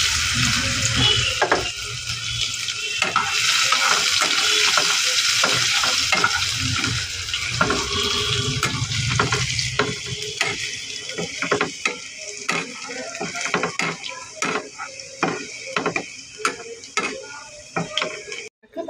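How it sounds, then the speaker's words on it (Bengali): Garlic tempering fries in hot white (refined) oil for a lentil and jute-leaf dal, a loud steady sizzle that gradually thins into crackling pops alongside occasional stirring scrapes. "গরম হয়ে গেছে এবার তাতে রসুন ফোড়ন দিয়ে নিচ্ছি"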